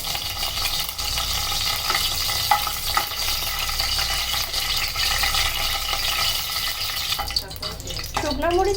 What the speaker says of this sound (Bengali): শুকনো মরিচ হালকা ভাজা হয়ে এলে